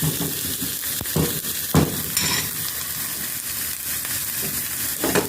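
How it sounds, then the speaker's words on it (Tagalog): Onions sauté in a pan for an empanada filling, a continuous close sizzle broken by periodic scrapes and knocks of a spatula stirring against the pan. "Basta lutuin lang ng konti yung sibuyas."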